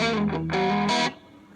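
Electric guitar played through a small Fender Champion 110 bedroom amp with the gain around 5 and volume low, giving a few distorted, sustained chords that ring out and then cut off into a quiet decay.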